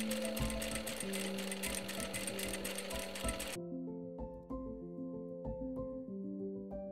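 A sewing machine stitches a narrow rouleau loop strip 3 mm from the edge, then stitches back along the same line. Busy rapid stitching cuts off abruptly, and quieter, sparse mechanical clicks and tones follow.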